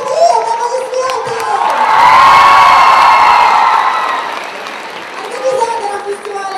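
A festival crowd at the Higan 2010 anime festival applauds and cheers for a band. The loud clapping and whoops swell and then taper off, and an announcer talks at the edges.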